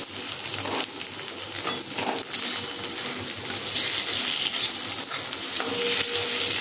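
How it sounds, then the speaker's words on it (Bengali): Onions fry in a pan for a Bengali egg and potato curry, giving a steady close sizzle with scraping stirs throughout, no voices. "পেঁয়াজটা ভাজা ভাজা হয়ে গেছে"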